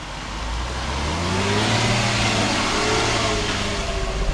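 A Land Rover Discovery 5 engine revs on the road to Radon Lake, rising and falling in pitch over a steady rumble of road and wind noise, fairly loud throughout.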